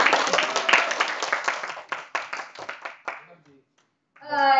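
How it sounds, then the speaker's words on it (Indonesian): A small audience at a public speaking training session claps for a few seconds, close and lively, fading into a short pause before a voice starts speaking. "Tepuk tangan dulu"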